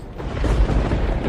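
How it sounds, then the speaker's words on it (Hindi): Deep rumbling thunder rolls through a heavy rainstorm in a village, a low sustained boom swelling and holding loud and close with no talking. "इतना कस के बादल गरज रहा है"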